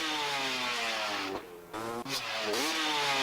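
A motorcycle engine revs loudly and steadily nearby, its pitch sliding up and down through throttle changes, with a brief dip in the middle before climbing again.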